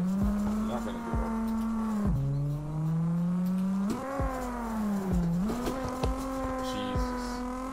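A car drifting in CarX Drift: a steady, loud engine drone that dips and rises in pitch as the throttle changes, with short clicks and knocks over the top.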